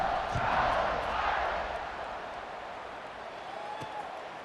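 A college football stadium crowd at a Notre Dame versus Syracuse game roars before a kickoff, a broad wash of cheering that swells early and then eases, with a commentator talking over it.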